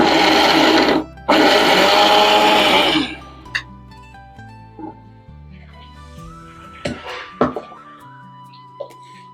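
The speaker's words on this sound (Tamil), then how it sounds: "மிக்ஸி ஜாரில் நம்ம அரைக்கும் போது பல்ஸில் தான் அரைக்கணும்." A mixer grinder pulses loudly in two short bursts while grinding for a turkey berry curry, then stops, followed by scattered clinks and faint knocks.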